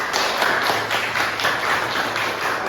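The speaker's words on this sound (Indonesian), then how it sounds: "Sekali lagi, kita beri tepuk tangan untuk presentasi masing-masing kelompok kita." A classroom of students clapping together for group presentations, a steady dense patter of many hands sustained throughout at moderate volume.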